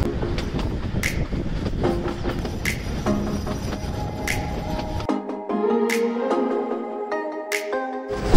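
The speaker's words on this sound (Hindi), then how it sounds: "सो एज एक्सपेक्टेड ट्रेन का एवरेज स्पीड है 20-21 किलोमीटर्स।" A narrow gauge heritage toy train in rural Gujarat runs steadily with continuous rumbling and repeated sharp clicks from the wheels on the track, close and fairly loud, with no voices.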